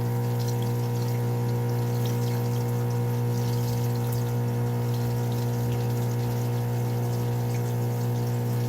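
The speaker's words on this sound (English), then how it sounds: "I'm wasting a lot of water by rinsing this off right now, but I want to get it cold." Tap water runs steadily in a kitchen while cold pasta is rinsed, a constant loud rushing flow under a strong steady hum, unbroken for nearly nine seconds with no talking.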